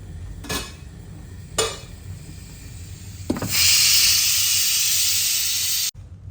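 Kappa puzhukku (tapioca) cooks in a covered pot. Two brief metallic knocks come first, then a loud, steady steam hiss starts and runs for a few seconds before cutting off abruptly.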